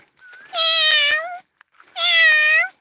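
A cat meows twice, each call long, clear and loud and close by, with a short pause between them. No talking can be heard.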